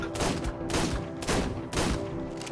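Gunfire in the ARK survival game as a player shoots at a wyvern on a PvP server: repeated loud bursts of shots arriving roughly every second, close and continuous, with no talk.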